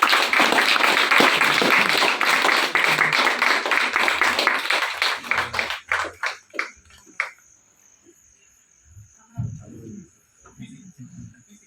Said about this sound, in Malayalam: എല്ലാവരും ഒന്ന് കൈയടിക്കുക